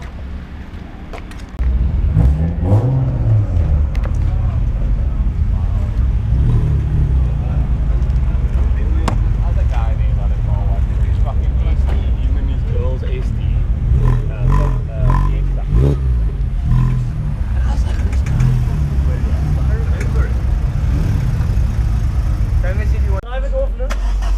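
A lowered car at a car meet revs and pulls away, its engine rumbling loud and close for over twenty seconds with clattering and crowd voices mixed in before it cuts off at the end.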